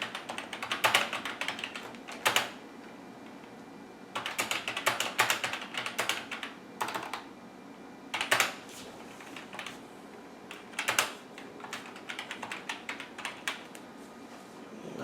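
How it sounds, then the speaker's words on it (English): Clicky keystrokes on the keyboard of a 1987 Macintosh SE come in bursts of rapid typing separated by short pauses, close and distinct with no talk. "so I can just type something in here"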